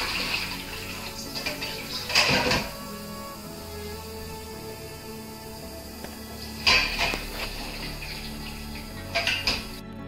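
Chinese long beans (bora) are rinsed in water in a kitchen sink, giving steady close splashing and trickling, with a few louder sloshes and clatters as the beans are swished around.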